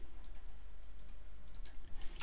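Light clicks on a computer keyboard while renaming nodes in Houdini software, a few short quiet bursts of taps spread over two seconds against a low steady hum, with no talking.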